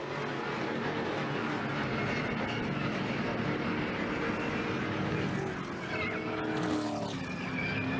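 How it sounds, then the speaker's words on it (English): NASCAR stock cars racing in a tight pack at Talladega, with a mid-pack crash sending cars into the wall; dense, loud engine roar and tire noise run steadily throughout, with skidding squeals rising near the end. "All these cars trying to get with each other, and you see some contact right there mid-pack."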